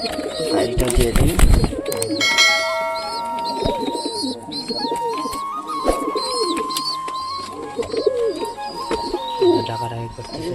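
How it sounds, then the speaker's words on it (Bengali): Satin pigeons coo and call repeatedly at close range, a mix of soft throaty coos and sharper calls, with a person speaking over them and a brief rustling clatter near the start. "ডাকাডাকি করতেছে, জোড়া নিচ্ছে।"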